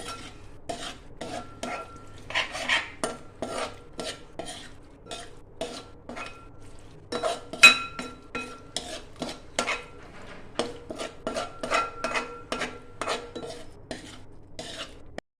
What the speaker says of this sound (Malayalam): നമ്മുടെ ഗ്രേവി ആയിട്ട് കാന്താരി നല്ലതായിട്ട് യോജിപ്പിച്ച് ഇളക്കി